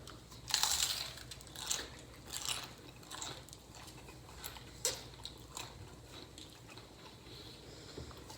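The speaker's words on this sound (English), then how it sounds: "Listen to this crunch though," A crunchy taco chewed close to the microphone, sharp crackling bites followed by quieter intermittent munching over faint background noise.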